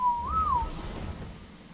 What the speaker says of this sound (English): Let's whistle you to stop.